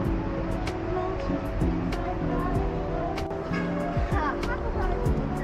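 Busy Hong Kong street traffic fills the scene with a steady, dense rumble of passing cars and engines, heard close and continuous, while voices chatter over it and a few sharp horn-like accents cut through.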